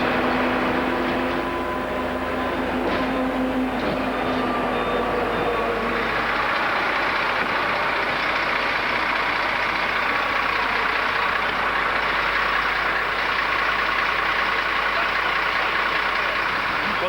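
A bus engine idles at a stop, a steady low rumble with a broad mechanical hum running throughout, fairly loud and close, with faint voices in the background.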